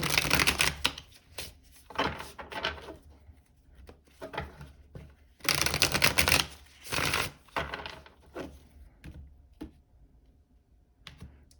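Tarot cards being handled and laid out in order on a table, with repeated quick shuffles, snaps and soft slaps of card stock coming in short clustered bursts, close and clear with no talking.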